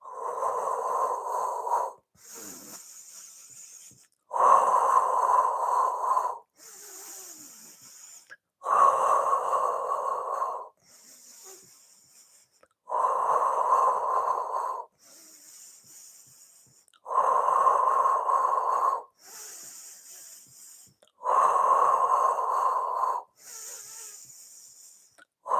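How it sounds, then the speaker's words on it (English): Paced Pilates breathing during a full-body flow, long audible inhales and exhales through the mouth and nose alternating in an even rhythm about every two seconds, close and clear with a hissing, slightly wheezy texture. "Let's take a breath in together. And now we're going to exhale 2, 3, 4, 5."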